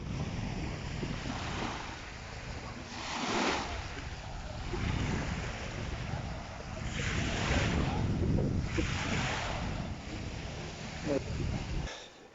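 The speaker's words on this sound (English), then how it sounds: "It seemed like a very nice beach." Waves wash onto a beach near Lassi out of season, a soft, steady surf rolling under strong wind noise, with a voice speaking briefly in the background.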